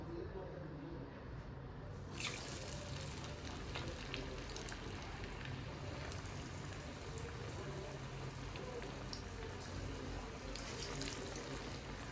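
Sweet corn bonda fritters sizzle steadily in hot oil, a loud continuous crackling fry that swells after a quiet start and holds throughout.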